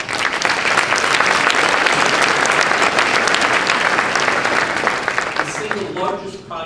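A city hall audience breaks into dense, sustained applause at a mayor's state of the city address, loud and steady throughout, easing slightly near the end.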